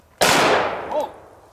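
A single close, very loud AK-47 rifle shot fired one-handed, a sharp blast that rings out and decays over about a second.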